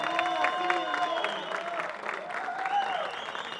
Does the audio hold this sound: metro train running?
no